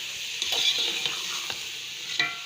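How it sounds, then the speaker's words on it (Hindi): Keema karela with tamarind pulp is stirred and fried in a pan, a soft continuous sizzle broken by a few scraping spoon strokes close by. "थोड़ा सा इमली का पल्प और इसको अच्छी तरह मिक्स कर लें। 2 मिनट के लिए इसको मिक्स करके भून लें।"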